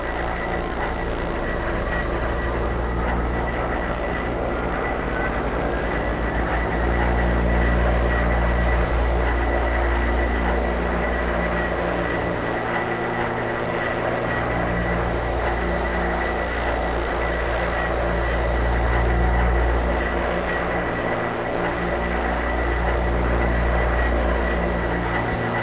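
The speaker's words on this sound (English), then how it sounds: "and now we'll start up the left engine." Left engine of an OV-10 Bronco twin turboprop starting up in the DCS combat flight simulator: a loud, steady propeller drone with layered humming tones that swells and eases in slow waves throughout, with no other sound on top.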